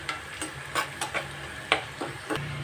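Brinjal fries in oil with curry leaves, giving a soft sizzle under repeated light scrapes and taps of a spatula in a quick, uneven rhythm close by.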